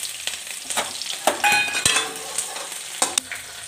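Carom seeds, nigella seeds, chili and garlic hit hot oil in a pan, giving a steady close sizzle and crackle broken by scattered pops and stirring clatter.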